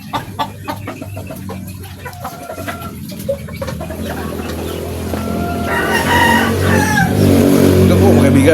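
A Gilmore gamefowl rooster clucks in short bursts, then lets out a loud, drawn-out crow close by, with other fowl and background noise around it.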